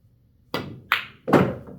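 A pool cue strikes the ball, followed by a knock and a hollow thunk as the ball drops into a pocket, three short, crisp hits close by and no talk.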